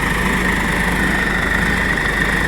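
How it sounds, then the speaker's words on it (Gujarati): A Swaraj 742 XT tractor with a 45 hp, 3300 cc three-cylinder engine runs steadily nearby, giving a loud, continuous low rumble with an even drone and no speech over it. "સૌરાજ 742 XT, જે 45 હોર્સ પાવરમાં 3300 સીસીના એન્જિન અને 3 સિલિન્ડરનું એન્જિન આવે છે"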